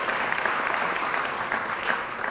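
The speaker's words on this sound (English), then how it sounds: "Let's give Mickey Ibarra a warm round of applause." Audience applause at a Latino leaders luncheon in Los Angeles, honoring Mickey Ibarra; a steady, even roar of many hands clapping at once, sustained and moderately loud, with no speech on top.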